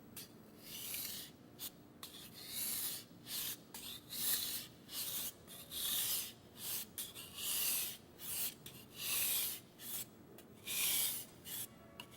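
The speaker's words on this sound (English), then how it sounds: "keep your fingers positioned directly over the stone's surface and above the area of the knife you're sharpening" Kitchen knife drawn across a whetstone in steady, evenly spaced rasping strokes, about a dozen scrapes in a regular rhythm, close and quiet with no talk.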